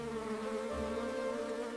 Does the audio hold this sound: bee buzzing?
yes